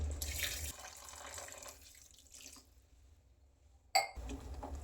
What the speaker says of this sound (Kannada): ಈಗ ಇದಕ್ಕೆ ಅಗತ್ಯಕ್ಕೆ ತಕ್ಕಷ್ಟು ನೀರನ್ನು ಹಾಕಬೇಕು.